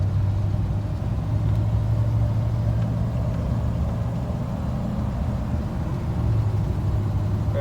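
A 1986 Chevrolet Silverado C10 4WD truck cruising along, its engine a steady low rumble heard from inside the cab, with no voices and no breaks in the sound.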